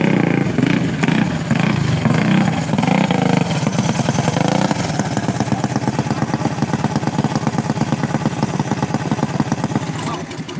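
A go-kart engine on a short dirt race track in Hanceville, Alabama buzzes loudly nearby in a rapid, pulsing rhythm that settles into a steady idle, without any talking.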